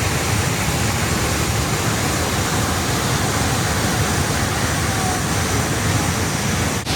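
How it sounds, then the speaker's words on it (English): A steady, full roar of Haew Suwat Waterfall in Khao Yai National Park, Thailand, loud and continuous throughout with no pauses or other sounds rising above it. "This is Haew Suwat Waterfall at Khao Yai National Park"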